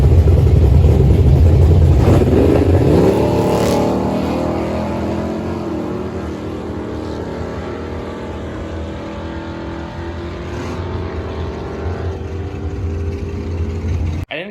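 A Coyote-swapped Ford Mustang makes a 7.50 index drag race pass at Alamo City Motorplex, its engine roaring loud and close at launch, then shifting up and droning on in a sustained, fading wail down the track.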